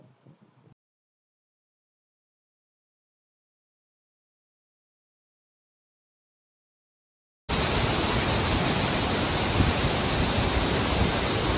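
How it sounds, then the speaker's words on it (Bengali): The Nongkrem (Kynrem) waterfall near Cherrapunji, Meghalaya, flows powerfully in the monsoon. A steady, loud, dense roar of rushing water starts abruptly after a long silence and continues unbroken to the end. "দেখতে পাচ্ছ কি বিশাল বেগে বইছে এই জলপ্রপাতটি।"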